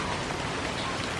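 Steady rain falls outdoors in India during a walk, a dense, even hiss of drops on surfaces with no voices.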